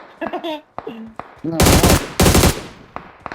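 Gunfire in the mobile game PUBG Mobile: two loud, sustained bursts of rapid automatic shots, each lasting about half a second, preceded by short exclamations and talk from a player.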